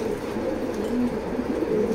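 Racer pigeons coo softly in a loft, a low, gentle, repeated murmur that runs steadily under a constant background hum, with no voices.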